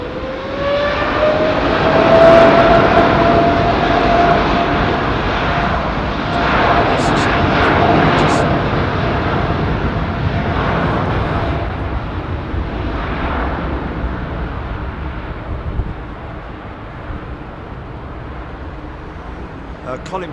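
A jet aircraft roars on takeoff at London Heathrow Airport, a loud broad rumble with a rising whine that slowly fades into the distance.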